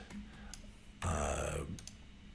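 Quick clicking keystrokes on a computer keyboard while entering a value in a Grasshopper panel, a short burst of taps up close, alone without speech.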